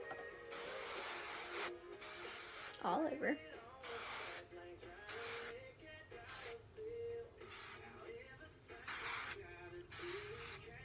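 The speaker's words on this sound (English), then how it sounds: "So now we're going to spray it again." Hairspray hisses onto hair in a series of short, close bursts separated by brief pauses, with someone talking softly in between.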